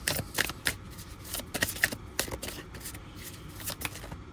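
Tarot cards being shuffled by hand, a close series of soft riffling snaps and flicks repeating in an uneven rhythm with no talking.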